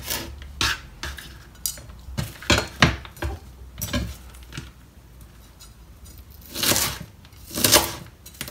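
A knife chopping cabbage into smaller chunks for sauerkraut, with a series of sharp, close cuts and clatter against a board, sometimes in quick bursts and separated by short pauses.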